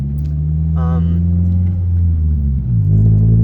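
A 2003 Toyota Celica GT on 225/45 R18 tyres, heard from inside while driving. A steady, loud low engine and road drone shifts slightly in pitch, with a brief voice-like sound partway through.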